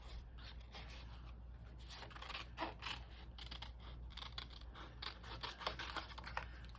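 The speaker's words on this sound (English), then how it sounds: "now I'm just going to cut it out" Scissors snip through paper for a mixed media craft piece in a run of short, crisp cuts and rustles, close and fairly quiet, with no voices.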